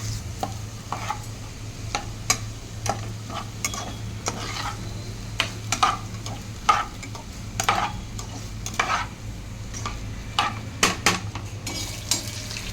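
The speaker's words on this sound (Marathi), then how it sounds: "आता हे हलवून घेऊया" Onions being stirred in a pan while making veg pulao, soft sizzling under irregular clinks and scrapes of a spoon against the pan, fairly quiet with a low steady hum beneath.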